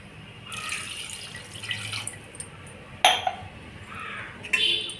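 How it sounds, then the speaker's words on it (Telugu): Water splashes and pours into a pot of chicken curry, followed by a metal clink and another brief pour, close and fairly loud. "ఇంకో గ్లాస్కి కూడా నీళ్ళు వేసేస్తున్నాను."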